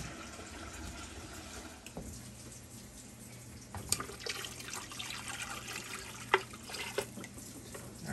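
Tap water runs steadily into a pot of pears being readied for water-bath canning, a soft continuous trickle and fill with a few drips and clinks, quiet and near.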